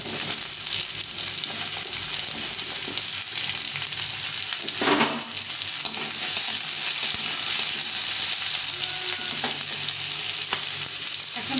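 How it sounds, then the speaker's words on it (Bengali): Potato pieces fry in a little oil in a pan for a vegetarian curry, giving a continuous dense sizzle with occasional stirring scrapes throughout, close and fairly loud, with no talking. "আলুটা একটু ভেজে দিয়ে এখন দিয়ে দেবো পটলগুলো"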